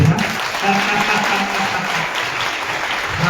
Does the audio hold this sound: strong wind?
no